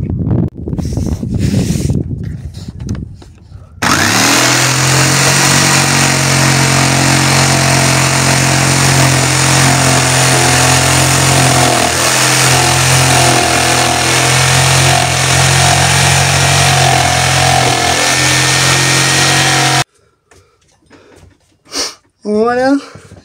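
A power tool cuts a hole for a stove flue through a van, a loud, steady close-up motor whine running for about sixteen seconds with a brief voice before it starts.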